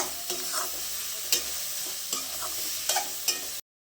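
Onions sautéing for biryani in a pan, a steady bright sizzle with intermittent scraping stirs of a spatula every second or so, close and alone with no voices.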